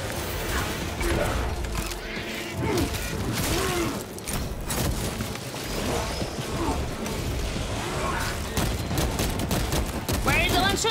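Gunfire crackles through a Space Marine 2 battle against bugs, dense bursts and booms layered with mechanical clatter and constant game noise, with a voice speaking over the din.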